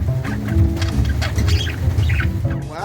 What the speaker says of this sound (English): Wowzers, you're such a pretty bird, KK.